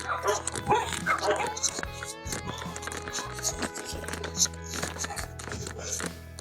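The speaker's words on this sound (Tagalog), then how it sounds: "May mga aso ah." Several dogs bark and yip repeatedly nearby while people talk over them, with some whimpering between barks.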